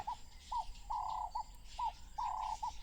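Wading birds call at a marsh at sunset, giving repeated clear, whistled notes in short phrases spaced a beat or so apart over a quiet, open background.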